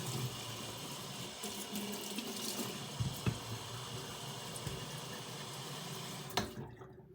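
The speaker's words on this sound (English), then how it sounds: "Running out of water out of my huge container here." Water pours steadily from a large container onto a honing stone while sharpening a Puma 89 Black Shadow knife, a continuous close splashing stream with a couple of brief knocks, stopping abruptly near the end.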